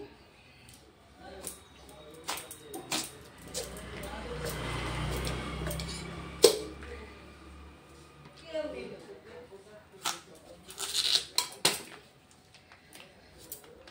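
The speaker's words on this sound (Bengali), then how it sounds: "পেঁপেটা কেটে নিচ্ছি" A knife cutting papaya produces scattered sharp taps and chops on a board, some quick and clustered, mixed with a person talking in between.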